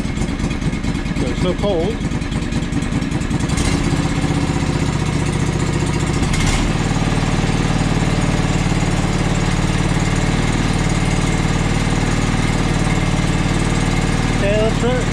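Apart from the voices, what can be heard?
John Deere 445 lawn tractor engine running and revving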